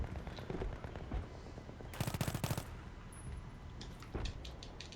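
Automatic weapon fire in the Battlefield 3 video game, with rapid bursts of gunshots coming and going, one dense rattling volley mid-way and more scattered shots after, fairly faint and distant.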